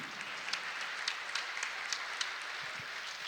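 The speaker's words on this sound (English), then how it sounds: "so if we can give them a quick round of applause" A quick round of applause for the staff at a novice 8-ball pool tournament, faint and distant, with scattered individual claps standing out from a thin, steady patter of hands.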